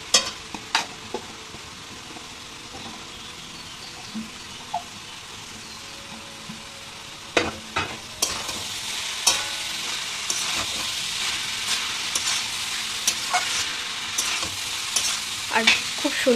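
Boiled potato and mashed green jackfruit frying together in a curry pan, a low continuous sizzle broken by sharp clattering stirs and scrapes, bunched more densely in the second half.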